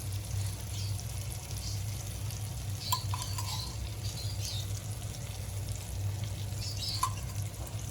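Five or six pieces of surmai fish frying in oil in a pan give a steady low sizzle, with a few light clinks and spatters over it and no speech.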